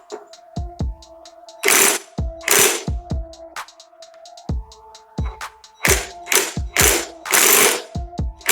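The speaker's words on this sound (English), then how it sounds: "I have a pry bar and the bolts back here to help keep the crank from turning while I try to get that front bolt loose." A ratchet clicks and clunks on the front crankshaft bolt of a junkyard 360 Magnum engine while a pry bar holds the crank, with repeated sharp mechanical clicks and heavy thunks in uneven bursts.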